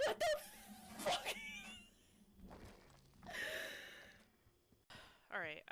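Raspy, uneven breaths and sighs from a creature in the horror game Maid of Sker come in several separate bursts with gasping, snorting textures and quiet thuds in between.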